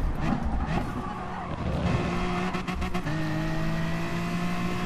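BMW M4 race car in Gran Turismo Sport cornering at Brands Hatch: a steady engine drone with rising and falling pitch as it works through a bend, plus brief tyre-scrub texture, continuous and fairly loud with no talking.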